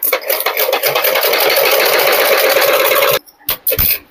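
A sewing machine stitches a blouse in a fast, loud, steady mechanical whir for about three seconds and then stops, followed by a few short clicks.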